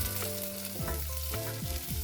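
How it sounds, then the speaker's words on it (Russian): Cherry tomatoes fry in a hot pan with a close, steady sizzle, and the sound of them being stirred and shifted about comes through now and then. No one speaks. "Быстро обжариваем томаты черри."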